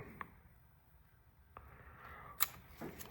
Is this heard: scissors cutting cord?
yes